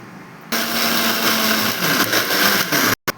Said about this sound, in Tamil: சாம்பார் வெங்காயம் இதெல்லாம் போட்டு மையாக அரைச்சி வச்சுக்கணும்